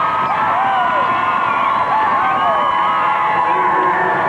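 Spectators at a 1989 Minnesota state high school boys soccer final cheer and shout in a loud, unbroken roar, with individual rising whoops poking out of the dense crowd noise.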